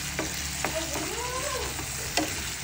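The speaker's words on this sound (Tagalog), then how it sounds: "So gigisahin din natin yan sa minuto." Delimondo ranch style corned beef with two eggs sizzles steadily in a frying pan while a utensil stirs and scrapes through it, close and continuous.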